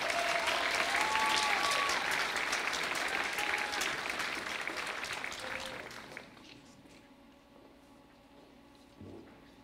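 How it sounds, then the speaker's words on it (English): A high school senior awards ceremony crowd gives scholarship recipients a big round of applause, loud sustained clapping with a voice over the start that gradually tapers off into quiet room tone with a few stray claps. "Give all these folks a big round of applause."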